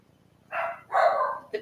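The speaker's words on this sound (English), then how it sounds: "my dogs are barking like crazy" Two pet dogs barking at a distance in a quiet room, three separate barks of rising and falling length, the last one short and sharp.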